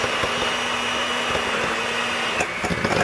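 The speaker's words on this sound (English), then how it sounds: "get your mixer to come over here. Okay. And then you're going to blend this" An electric mixer whirs steadily up close as it blends spinach mashed potatoes with cheese and garlic, a loud continuous motor drone with no voices.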